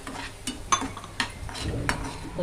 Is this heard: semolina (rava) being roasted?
yes